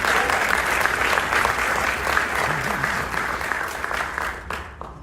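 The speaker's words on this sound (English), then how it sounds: "Please give Congressman Davis a great round of applause." A crowd at a tribute event at the DuSable Museum in Chicago gives Congressman Davis a warm round of applause, dense, steady clapping for several seconds that tapers off near the end, with a faint voice briefly underneath.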